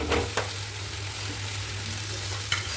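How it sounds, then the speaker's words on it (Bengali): Fried potato and papaya drop into hot oil with frying spices for a papaya and rohu fish curry, setting off a steady loud sizzle with a couple of brief clatters, no voices. "এবার আমি দিয়ে দিচ্ছি ভেজে রাখা আলু আর পেঁপে"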